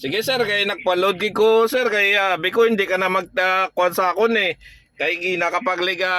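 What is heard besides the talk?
No everyday noises stand out.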